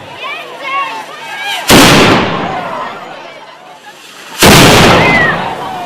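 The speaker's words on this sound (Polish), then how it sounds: "I rozpoczniemy wystrzałem z artylerii." Ceremonial artillery firing at a Museum Night event at the State Archives in Koszalin: two loud, booming blasts a few seconds apart, each with a rumbling decay, and someone speaking Polish before them.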